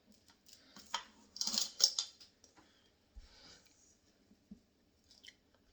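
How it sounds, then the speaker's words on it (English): Biscuit dough being scraped out with a scraper, heard as a few soft, sticky scrapes and light clicks in quiet surroundings, loudest in a short cluster partway through. "I'm going to scrape out our biscuit dough"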